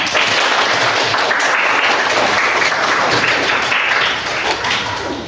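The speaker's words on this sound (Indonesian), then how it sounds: "Sebelumnya tepuk tangan untuk kita semua." A class of students applauds continuously for several seconds, dense clapping at steady loudness that thins slightly toward the end.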